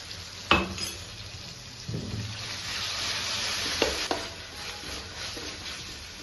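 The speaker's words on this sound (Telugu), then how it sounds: "సో బాగా కలుపుకోవాలి షుడ్ స్టిర్ లైక్ దిస్" Ginger paste and onions fry in a kadai for chicken curry while a spoon stirs them. A soft sizzle runs underneath, broken by a few distinct metallic scrapes and clinks against the pan.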